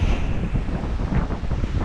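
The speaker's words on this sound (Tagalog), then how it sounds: "pagkakalakas ng hangin." Strong wind buffeting the microphone beside a fishing boat at sea, a rough, gusty roar with surging low rumble and possible surf underneath, loud and continuous with no voices.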